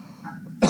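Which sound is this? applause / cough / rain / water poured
cough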